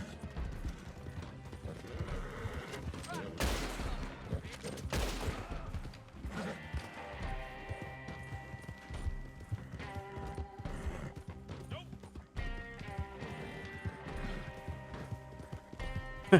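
A horse gallops in the video game Red Dead Redemption Online, with steady rhythmic hoofbeats. Game music plays throughout, and a few sharp bursts land in the first seconds.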